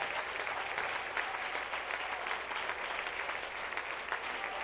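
A church congregation applauding continuously, a dense even wash of many hands clapping throughout, with no talking over it.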